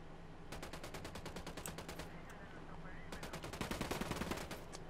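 Automatic gunfire in Ghost Recon Wildlands rattles in fast, even bursts. It pauses briefly midway, then resumes and grows a little louder toward the end.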